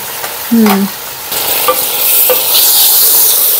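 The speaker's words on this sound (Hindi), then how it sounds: "ये देखिए, अब मेरा शोर आया होगा ना मसाले का" Beef mince fries with spice masala in a hot pan, giving a loud, continuous close-up sizzle with light stirring scrapes and a brief squeak near the start, and no talk.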